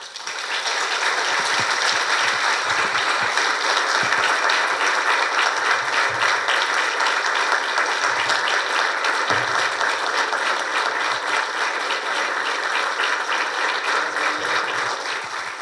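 Sustained, dense applause from a crowd at a religious anniversary celebration for Saint Cura Brochero, honouring the priest who spoke; steady and loud for the whole stretch, with no voices standing out.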